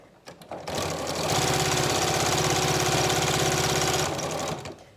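Sewing machine stitching a fabric scrap bag shut, a steady fast mechanical chatter that starts, runs evenly for about three seconds, then stops, close and fairly loud with no talking.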